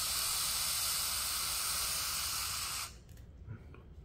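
Close, steady hiss of non-chlorinated brake cleaner sprayed while cleaning a Staccato XC 2011 pistol, running loud for about three seconds and then cutting off abruptly, leaving faint handling noises.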